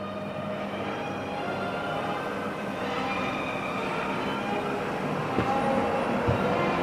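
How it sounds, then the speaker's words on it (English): A model train at a toy and model museum rolls along its track with a continuous rumbling clatter, close by and fairly loud, with a few sharper clicks toward the end. "and we'll start the train again"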